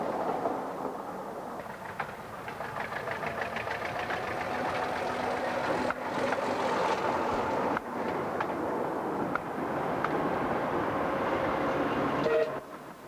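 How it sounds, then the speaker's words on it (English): A 1965 Motor Rail diesel locomotive rumbles along with a steady engine drone and rhythmic knocking, rail clatter mixed in, moderately loud throughout. "Corris, a Motor Rail diesel from 1965, helps with the railway's restoration."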